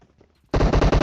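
Automatic gunfire in PUBG Mobile: after half a second of near silence, a loud, sustained machine-gun burst erupts and rattles on with rapid, closely spaced shots and only tiny gaps.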